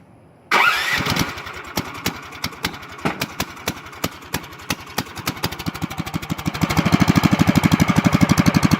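A small 110cc shifter kart engine sputters to life with a sharp start, then runs in a rough, loud chugging idle that speeds into a faster, steadier rev near the end.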